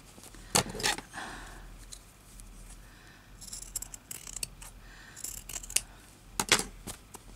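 Scissors snip through fabric for a handmade slow-stitch embroidered needle book, giving sharp, close cuts in irregular bursts with quiet pauses between them.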